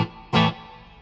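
A single chord strummed on a Fender Ultra Strat electric guitar through a Quilter Tone Block 202 head, with reverb set about halfway. It rings out loud and alone, then fades into a soft reverb tail.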